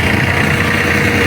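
A tractor engine idles at an onion market, a loud, close, continuous rumbling drone with no break.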